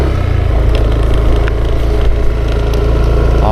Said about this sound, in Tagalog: Ayan yung mga motor ng gwardiya.